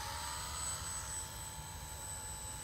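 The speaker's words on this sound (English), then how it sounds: "So this is a fixed pitch helicopter, I believe." An Esky 300 V2 mini remote control fixed-pitch helicopter flies nearby, its steady whirring rotor drone and high motor whine holding constant with no talk.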